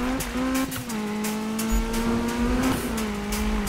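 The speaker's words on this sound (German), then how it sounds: "Der Wagen sollte jetzt eigentlich gar nicht mehr driften." A Honda Civic drives and drifts in the Need for Speed 2015 video game, its engine holding a steady loud whine that dips and rises with gear changes, with tire squeal and scattered impacts, no talking.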